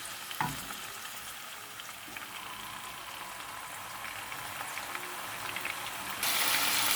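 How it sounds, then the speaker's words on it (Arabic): Alexandria-style liver pieces are laid flat in hot oil and sizzle steadily, a dense, loud, continuous crackle with no talk that swells even louder at the very end. "حطها في الزيت ومش هنقلبها،"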